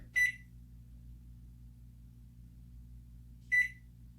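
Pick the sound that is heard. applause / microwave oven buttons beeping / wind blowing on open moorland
microwave oven buttons beeping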